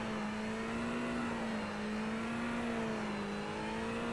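A Ferrari GT3 race car in the iRacing sim at the Red Bull Ring, heard as a steady, faint engine drone whose pitch shifts only slightly, as if easing and braking behind a pace car.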